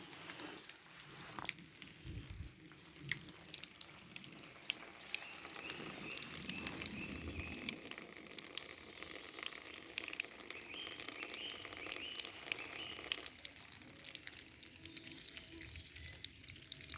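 Water flows steadily outdoors in nature, a continuous faint rushing and trickling wash that holds without pause throughout.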